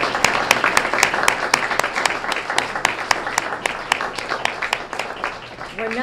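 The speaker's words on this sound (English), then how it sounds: "please stand so we can give you a big round of applause" A standing audience gives a student of the month a steady round of applause, many hands clapping densely and close, with a few louder individual claps standing out throughout.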